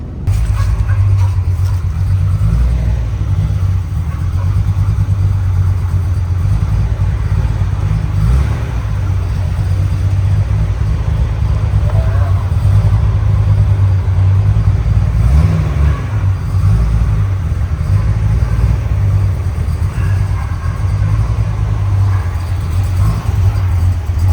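1965 Corvette with an LS3 engine and a worn transmission, its engine rumbling deep and loud close by, surging under throttle a few times during a hard drive.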